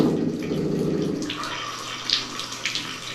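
A Moen bathtub faucet runs with a steady gush of water, then the stream thins and a few sharp rattling knocks break through, fairly close and without speech.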